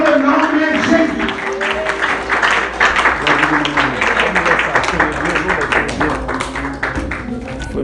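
A church congregation claps for a pastor, dense fast applause mixed with crowd noise and voices speaking over it, close and loud throughout.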